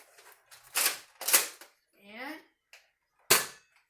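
A Nerf blaster fires in a toy battle, giving several sharp snapping pops spread unevenly, close and loud, with a brief whirring sound in between.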